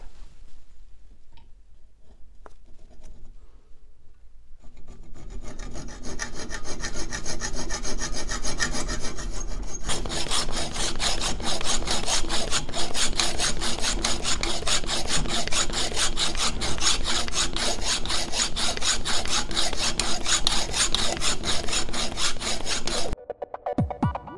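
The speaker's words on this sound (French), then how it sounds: "ça fait un moment là que j'essaye de scier cet écrou qui est vraiment costaud" Hacksaw strokes rasp rhythmically against a tough steel nut, starting slow and quiet, then becoming fast, loud and steady before stopping abruptly.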